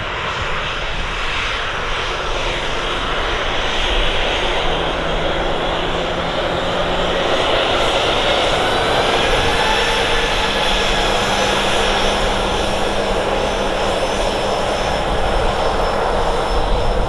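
A jet airliner taxiing fast at Manchester Airport, its engine roar loud, steady and close throughout with a faint whine over a broad rumble and no talk.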